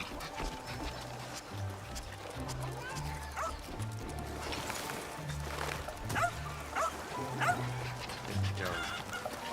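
A dog barks in short, repeated yelps with honk-like tones, mixed with people talking and other background noise.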